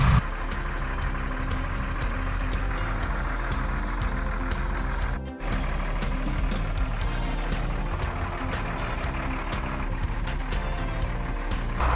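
A diesel truck engine runs steadily after a cold start, a constant low rumble with dense harmonics that stays loud throughout, broken only by a brief dip partway through.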